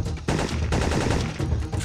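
Gunfire in the PlayStation game Syphon Filter 3, including sniper shots, bursts loudly and densely over a constant roar of game noise, with no talking.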